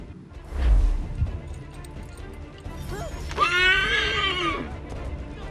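Horse whinnies loudly in an Assassin's Creed 3 game scene, a bright rising-and-falling neigh lasting about a second, preceded by low thuds and faint game noise.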